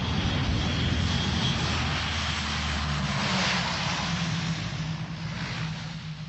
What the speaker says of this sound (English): the first of the RAF Hercules lands between the bomb craters on a stretch of runway